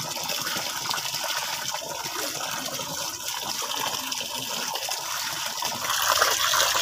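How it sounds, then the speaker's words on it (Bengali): Small mourala fish are washed under a strong gush of running water, a loud, steady close rush of splashing liquid with no talking. "এবার মাছগুলো আমি ধুয়ে নিচ্ছি।"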